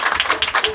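A church congregation breaks into applause during a service, a brief burst of many hands clapping in quick, dense, uneven bursts.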